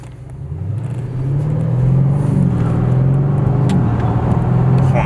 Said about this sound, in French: On entend les turbos qui soufflent.